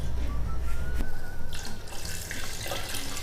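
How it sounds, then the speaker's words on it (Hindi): Steady rush of water running from a tap and splashing into a pot, about two litres for cooking beef trotters, continuous and fairly loud, with a faint whistle-like tone riding over it. "2 लीटर हम इसमें पानी डालेंगे।"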